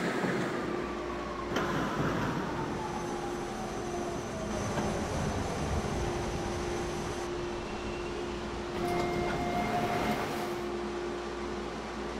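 A TTC H6 subway train running on Line 2 Bloor-Danforth between Old Mill and Royal York stations, heard from inside as a continuous loud rumble with a steady whine and a faint gliding squeal from the wheels.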